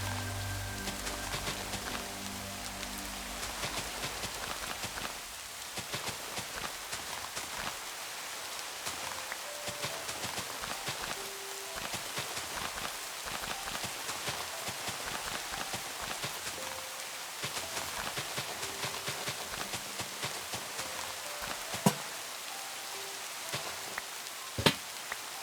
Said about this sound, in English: And it rains again.